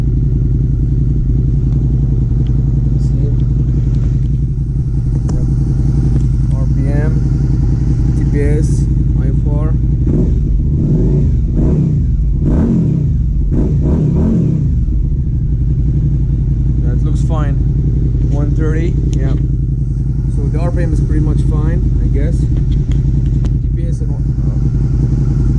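A 2018 Suzuki SV650A motorcycle idles loudly and up close after a Woolich Racing ECU flash, a deep steady engine drone with brief throttle swells, while people talk over it throughout.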